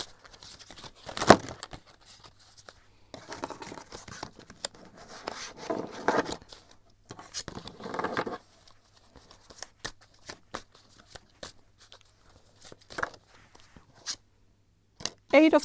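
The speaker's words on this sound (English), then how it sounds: "I'm gonna shuffle and see what the cards have to say" Tarot cards being shuffled in several short riffling bursts, close and fairly quiet, with pauses of near silence between them.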